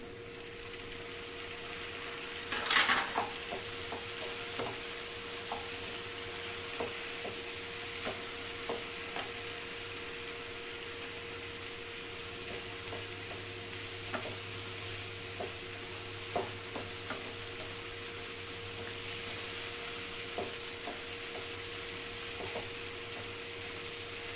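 Tomatoes frying in a pan for radish chutney, a low steady sizzle throughout with a clatter as they are added, then quiet periodic scrapes and taps of a spoon stirring.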